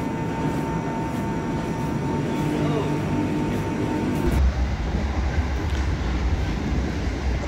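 The Gumarang business-executive train runs on rails between Semarang and Jakarta, heard from inside the carriage as a loud steady rumble with a deep low roar that grows heavier partway through.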